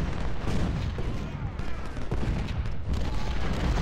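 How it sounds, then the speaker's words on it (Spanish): Artillery fire in the video game Ultimate General: Civil War forms a dense, continuous barrage of booms and gunfire rolling together loudly throughout, with someone speaking faintly over it. "Está sufriendo aquí disparos de la artillería"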